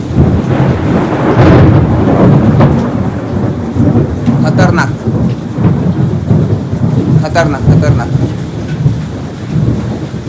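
Heavy rain pours steadily while thunder rumbles and cracks close by with lightning; a voice speaks briefly over the storm.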